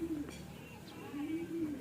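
Domestic pigeons cooing in a backyard loft, a few soft low rolling coos near the start and again toward the end, with faint background noise.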